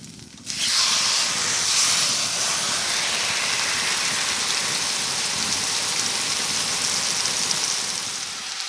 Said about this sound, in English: Put a little pat of butter into the pan. And in goes the steak.